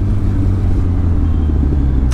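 A new motorcycle with a stock exhaust and no catalytic converter runs close and loud, giving a deep, steady, throbbing rumble with no pauses.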